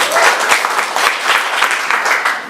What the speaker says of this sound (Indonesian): Mari kasih tepuk tangan yang meriah.